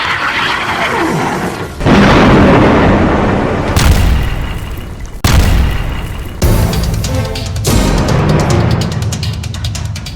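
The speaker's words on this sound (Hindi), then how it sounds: "गाजा पर बम बरसाकर इजराइल ने हमास की कई खुफिया सुरंगों को तोड़ डाला" Bombs exploding during an Israeli bombardment of Gaza, a series of heavy booming blasts at uneven intervals, each a sudden loud burst trailing off into rumble and debris noise, no talk.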